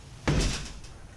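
A barn door swings open with a single short, heavy scraping thud, close and fairly loud, quickly fading into a quiet room.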